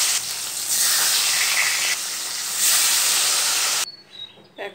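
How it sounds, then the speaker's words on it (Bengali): Pomfret fish frying in oil, a loud continuous hiss that swells and eases, then cuts off abruptly near the end, leaving quieter clatter. "এইভাবে সব মাছগুলি ভেজে নেব।"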